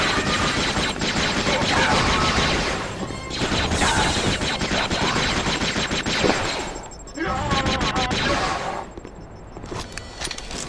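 Video game shooting: long stretches of rapid machine-gun fire with a few brief lulls, loud and continuous, mixed with game effects and some background voice.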